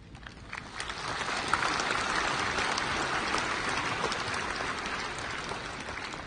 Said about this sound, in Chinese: 这个同学们掌声不热烈，我能理解